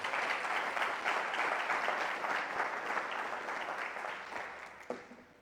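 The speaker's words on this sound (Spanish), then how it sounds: "¿Cuántos dan una ofrenda de palmas por eso?" A church congregation claps together in steady, dense applause filling the room, fading gradually toward the end with one sharp louder clap near the close.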